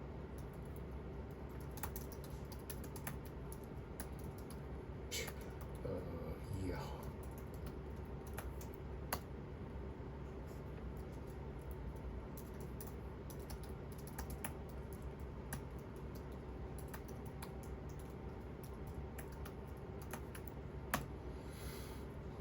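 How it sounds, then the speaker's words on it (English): Soft, irregular clicking of keys being typed on a computer keyboard, faint beneath a steady low background hum. "Am I typing? Yeah, I can't see the keyboard."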